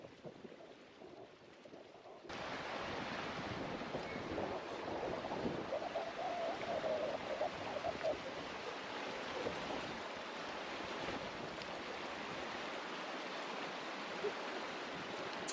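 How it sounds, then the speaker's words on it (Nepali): The Kali Gandaki river in Mustang rushes past as a steady broadband roar, starting quieter then swelling abruptly and holding loud and close, with wind buffeting the microphone and no talk. "यता गइरहेछ कालीगण्डकी नदी"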